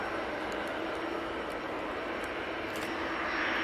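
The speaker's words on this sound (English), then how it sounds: "This is the Bombardier Challenger 300 going off to Genoa." A Bombardier Challenger 300 business jet departing Manchester Airport makes a faint, steady jet-engine roar with a broad hiss, distant and unchanging over a few seconds.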